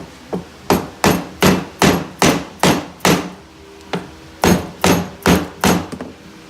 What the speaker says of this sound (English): Purpose of hammering is mostly just to help make sure everything is super flat.